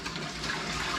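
Brine pours and sloshes into jars in a soft, continuous stream of liquid with no talking.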